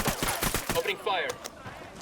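Several sharp shots crack in quick succession during a Ghost Recon Wildlands firefight, close and punchy, followed by a ringing, sweeping tail as shouting voices overlap.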